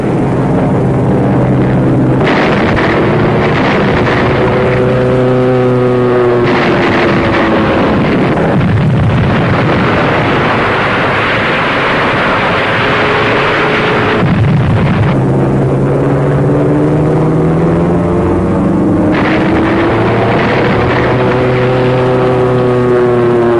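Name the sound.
bombs exploding on decoy truck in wartime newsreel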